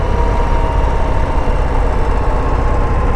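A 2022 Harley-Davidson Low Rider ST motorcycle engine under way on a test ride, a loud, constant low rumble with steady wind noise and no breaks, close to the rider.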